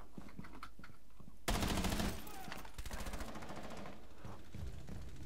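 Gunfire from a match of Rainbow Six Siege: a loud burst of automatic shots lasting about half a second, followed by scattered quieter shots and rattling over the next few seconds, with no talk over it.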